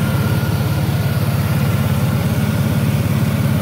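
A 2000 Chevrolet S10 pickup's V6 engine idles steadily, a low, even rumble with a regular pulsing throb that holds constant throughout, fairly loud and close.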